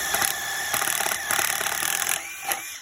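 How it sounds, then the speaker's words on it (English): A power drill bores holes into concrete for anchor bolts, giving a close, harsh, sustained whine with small bumps in pitch before it cuts off near the end. "I'm going to drill the holes here to where the anchor bolts are going to be secured to the concrete"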